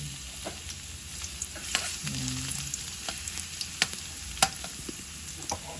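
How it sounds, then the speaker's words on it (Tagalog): Garlic frying in olive oil in a pan, a soft steady sizzle with scattered crackles and pops and a brief stirring scrape, close and fairly quiet. "Iprito natin muna ang bawang."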